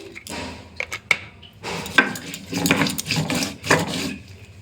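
Spices ground by hand into a fine paste for a home-style aair fish curry, heard as close, repeated scraping and grinding strokes in uneven bursts with short pauses between them.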